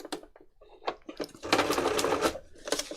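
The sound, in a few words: sewing machine stitching free motion embroidery, straight stitch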